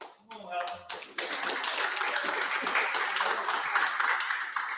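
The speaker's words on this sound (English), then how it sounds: "Let's applaud for Heather." An audience at a recovery group meeting breaks into applause for a woman invited up to speak. A brief voice and a few taps open it, then clapping swells into a steady, moderately loud round.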